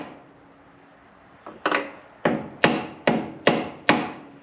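A hammer gives a 1 7/8 inch socket light taps during a Rubicon 4:1 transfer case swap into a Comanche: six sharp metallic knocks ringing close by at a slightly uneven, unhurried pace, after a quiet start.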